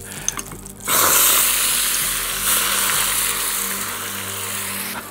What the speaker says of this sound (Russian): Итак, вода, перец, чеснок, раскаленное масло. Сейчас будет громкая пыш.